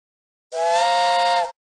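A single steady train whistle blast in a Curious George video game, loud and clear with a rich harmonic chord, lasting about one second before cutting off.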